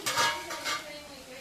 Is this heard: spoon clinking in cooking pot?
yes